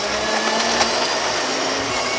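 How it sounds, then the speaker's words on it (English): A kitchen mixer grinder whirs loudly and steadily at full speed, a dense continuous motor roar close by with no pauses. "Switch on the mixer grinder."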